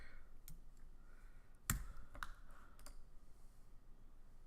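A single sharp click from a computer mouse, with a few fainter clicks after it, against quiet room noise.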